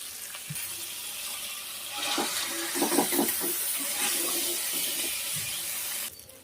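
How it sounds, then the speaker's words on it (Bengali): Fish pieces are rinsed under a running kitchen tap, giving a steady close splashing and gurgling of water over the sink that swells midway and stops abruptly near the end. "মাছগুলো ধুয়ে নিই"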